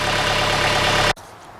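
A tractor engine started up runs loud and steady with a low, rumbling idle, then cuts off abruptly near the end, leaving near silence.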